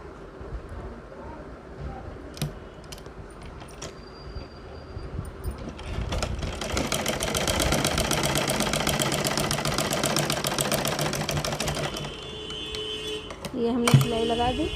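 A sewing machine stitches a strip onto a boat neck kurti, a fast steady mechanical whir and clatter running for several seconds, framed by quieter handling noises and someone talking before and after.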